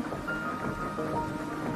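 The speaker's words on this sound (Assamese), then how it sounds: "ইমান বৰষুণ দিছে যাব পাৰিবা" Heavy rain pours down in a steady, dense hiss with a low rumble beneath, continuous throughout and with no voices.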